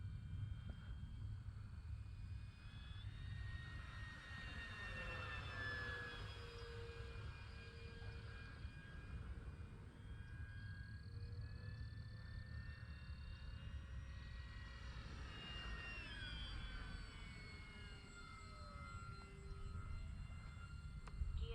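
An E-flite F4U-4 Corsair 1.2 m RC model plane on its maiden flight drones overhead with a thin electric whine, pitch sweeping up and down as it passes and banks, distant and steady over faint outdoor hiss.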